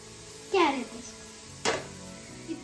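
Grated carrots for carrot halwa tipped into a hot pan and stirred, giving two quick scraping, sizzling swipes with a softer third scrape, close and clear over a quiet kitchen background.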